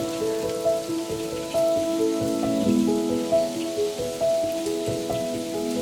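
Light drizzle falling outdoors on a cloudy, foggy day, a steady soft patter of raindrops on wet surfaces with scattered nearer drips over a constant hiss, with faint tonal background hum and no voices.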